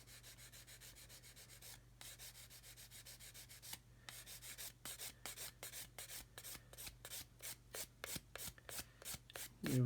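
A 220 grit sanding stick rubs back and forth along a model seam in quick, even rasping strokes, close and fairly quiet, speeding into a steady scratchy rhythm.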